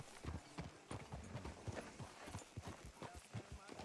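Horse hooves clip-clop at a steady rhythm in the video game Red Dead Redemption 2, close and continuous, with voices talking over the hoofbeats.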